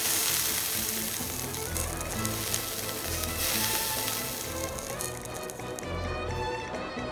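Mushrooms sear on high heat in the video game Genshin Impact, with a loud, continuous sizzle and frying crackle close up and music playing underneath.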